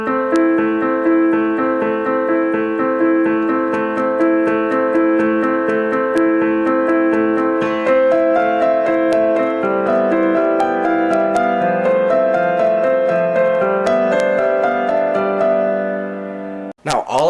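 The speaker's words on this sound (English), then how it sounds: "someone told me that these are called broken chords" Piano playing steady broken chords, notes rolling evenly one after another for about seventeen seconds, clear and close with no talking.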